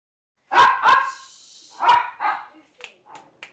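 A dog barks indoors during an online meeting, a few loud close barks followed by softer yips and a whine, ending in brief short barks.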